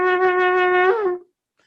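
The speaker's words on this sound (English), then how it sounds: "the final note, the truah, is 7 to 9 little broken notes" A shofar sounds a single sustained, bright horn blast of roughly a second, swelling slightly and bending at its end before cutting off into silence; here it is blown as one long tone rather than the broken truah notes.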